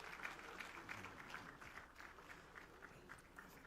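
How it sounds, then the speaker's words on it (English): Applause at a governance summit, a faint, distant and steady patter of many hands clapping that carries on throughout without a break. "Let's celebrate them once more with a round of applause."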